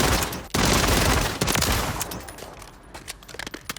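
MCW rifle from Modern Warfare 3 firing rapid automatic bursts, loud and dense at first, then tapering into scattered shots and echoing tails.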